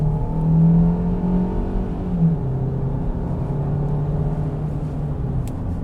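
The 1.6-litre engine of a 2021 Kia Sorento Hybrid kicks in under hard acceleration, heard from the cabin as a steady, droning engine note that climbs briefly in pitch and then holds at a sustained hum.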